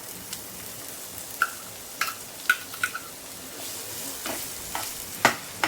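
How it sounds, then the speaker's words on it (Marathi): Chopped onion frying in hot oil for chicken masala pav, heard as a soft, low sizzle broken by scattered light scrapes and clicks of stirring. "कांदा छान भाजून घ्यायचा आहे एकदम जास्त करपवायचा नाही आहे"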